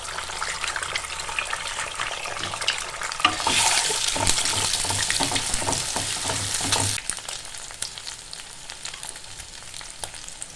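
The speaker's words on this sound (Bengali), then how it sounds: "সাদা তেল দিয়ে আমি 2টো ডিম ভেজে নেব।" Two eggs fry in white oil in a pan, a steady hissing sizzle with clattering stirring and scraping that swells loudest in the middle, no voices over it.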